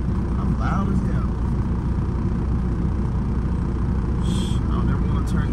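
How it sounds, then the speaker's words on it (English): A semi truck's engine runs steadily through a blizzard, giving a loud, continuous low rumble with broadband noise that never lets up. "I don't ever want to turn this truck off."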